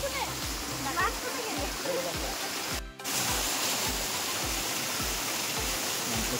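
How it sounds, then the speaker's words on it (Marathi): A jungle waterfall at Adai near PEB Fort pours as a steady hiss of falling water under repeated low thuds, with a brief dropout near the middle and people talking over it. "हा आपला वॉटरफॉल बघू शकता"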